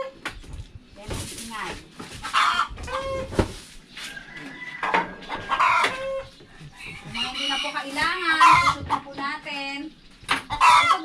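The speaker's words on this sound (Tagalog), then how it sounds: "Meron po mga tunog-tunog ng chicken. Siyempre, nangitlog." Hens cluck and cackle repeatedly after laying an egg, the calls rising and falling throughout, with a person talking over them.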